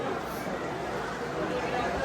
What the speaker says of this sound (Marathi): थोडीशी गर्दी आहे मंदिरापाशी.